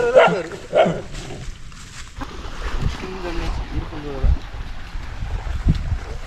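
A dog barks twice near the start, then wind and voices carry on outdoors.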